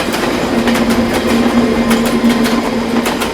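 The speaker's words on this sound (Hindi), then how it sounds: "यहाँ आसपास कोई ट्रेन जाती है?" A train passes close by, loud and steady, with a rhythmic clickety-clack of wheels over rail joints under a continuous rumbling drone, and no voices.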